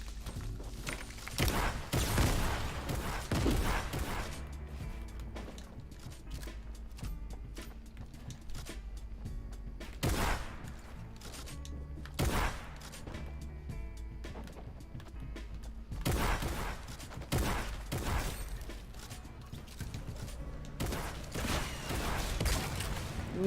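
Video game gunfire, several loud sharp bursts scattered at uneven intervals over a steady low background, with no voices.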